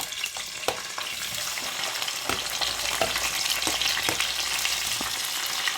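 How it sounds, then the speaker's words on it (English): Curry leaves, chilies and onions fry in oil, a loud close sizzle with spatter and periodic stirring clatters against the pan, no speech over it. "I will let it fry."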